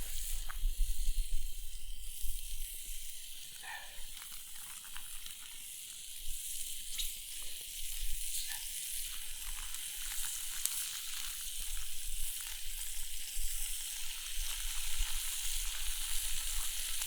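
Breakfast fries over an outdoor campfire with a steady, hissing sizzle that runs throughout, close and even, with occasional small pops.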